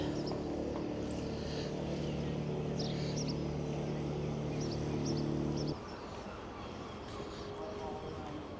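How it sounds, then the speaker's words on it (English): Low droning boat engine hum in Brixham harbour, Devon, holding steady, then dropping away partway through, leaving a quieter rushing background; faint chirps flicker high above. "Little man coming in on his boat."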